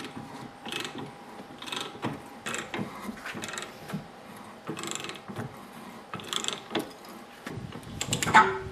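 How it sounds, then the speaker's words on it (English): Hand-turned pipe die cutting threads onto metal compressor pipe, a series of ratcheting clicks and grinding scrapes in uneven bursts, moderately close and steady with brief pauses between strokes. "I'm going to cut the threads on the pipe that I cut about this deep."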